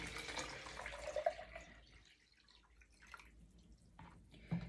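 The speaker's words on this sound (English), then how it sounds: "So I am going to pour my water back into my litre of my litre jug." Water poured from a container back into a one-litre measuring jug: a short run of splashing, trickling liquid at close range that tapers off midway, with a few faint drips and a small clink near the end.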